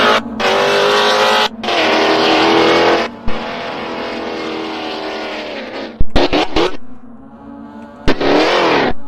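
A car speeds around a track, roaring up close with surges of throttle, brief drops as it backs off, and sharp bursts of engine and wind noise toward the end.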